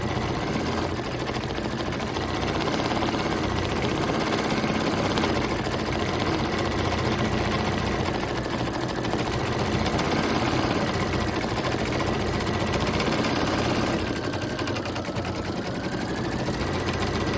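Embroidery machine stitching out a vaccination card holder, a steady loud mechanical hum and rapid needle chatter running continuously and close without pause, no voices.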